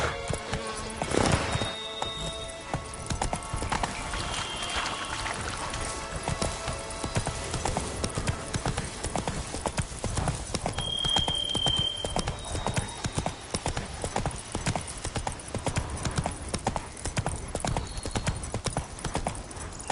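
Roach the horse galloping in Witcher 3, a fast steady clip-clop of hooves running continuously over game ambience, with a brief whinny-like swell early on.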